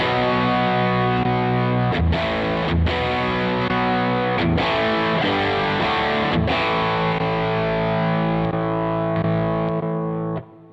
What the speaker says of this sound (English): There's no noticeable delay switching between the two effects, but you can hear the different effects switching in.